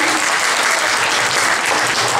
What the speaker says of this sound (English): Please give a big round of applause to Siddhant